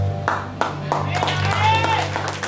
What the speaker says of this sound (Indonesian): Berikan tepuk tangan yang mulia buat orang